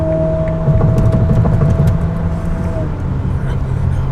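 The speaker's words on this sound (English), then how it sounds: "This is unbelievable how fast this car is." A Ferrari SF90 accelerates hard, its engine a loud, steady drone with a rising tonal whine, heard from inside the car while people talk excitedly over it.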